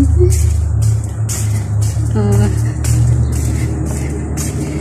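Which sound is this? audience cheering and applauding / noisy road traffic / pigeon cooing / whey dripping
noisy road traffic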